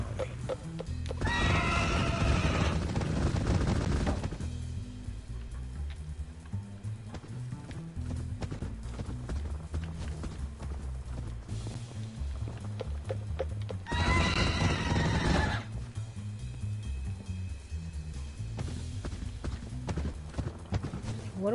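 A demon horse in a video game, with two loud whinnying neighs a few seconds long about twelve seconds apart, hooves clip-clopping and thudding between them and someone talking over parts of it.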